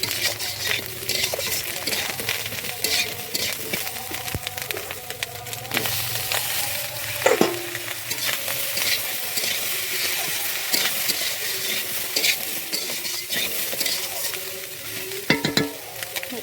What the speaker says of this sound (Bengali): সব সবজিগুলো একসাথে দিয়ে ভালো করে কষে নেব